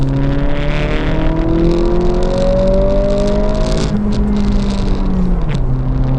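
An Acura Integra engine drones loudly and steadily under load climbing a steep hill in Vancouver, pitch slowly rising as it strains, then drops after a gear change and climbs again.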